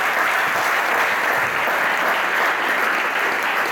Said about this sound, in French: Je veux qu'on applaudisse aussi